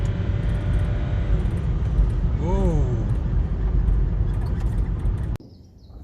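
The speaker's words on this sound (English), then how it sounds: "we have boost. Yeah, I can hear the turbo." BMW E-series project car engine running with turbo boost, a continuous low rumbling drone with a rising and falling whine, a brief exclamation from a person, then cutting suddenly quieter near the end.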